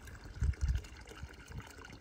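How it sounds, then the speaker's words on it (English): Water runs from a hose into a holding tank at an off-grid home in drought-hit Hawaii, a soft trickle with a few low gurgling splashes, near and fairly quiet. "You can hear the water trickling in there"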